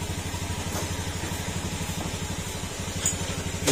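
Up close, a Honda Beat FI motorcycle idles with a smooth, rhythmic low thrum of rapid regular pulses, quiet and steady throughout, and a slight bump near the end.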